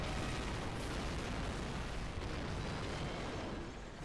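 A space station reactor blows up in the Fantastic 4 video game, a dense, sustained roar of explosive rumble filling the whole clip at steady loudness with no talk.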